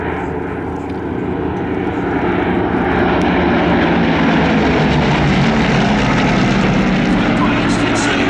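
Gloster Gladiator biplane flying at an evening airshow, its radial piston engine and propeller droning loudly and steadily throughout, rising slightly in strength as it passes close.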